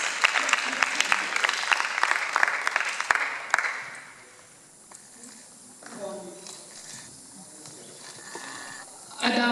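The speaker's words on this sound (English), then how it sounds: "Good round of applause for the audience." An audience at a school life skills activity event claps crisply for about four seconds before the applause thins out and dies away, followed by quiet talk.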